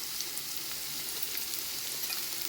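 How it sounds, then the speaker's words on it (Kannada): Chopped onion fries in a little oil for a sprouted green gram sabji with garlic, giving a close, continuous crackling sizzle with faint stirring and no talking. "ಈ ಥರ ಸ್ವಲ್ಪ ಎಣ್ಣೆ ಒಳಗೆ ಫ್ರೈ ಆಗಬೇಕು ಉಳ್ಳಾಗಡ್ಡಿ"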